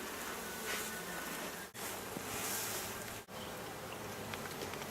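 Honey bees buzz in a continuous dense drone around an open, smoked beehive during a hive check, close and steady, with two brief dropouts in the hum.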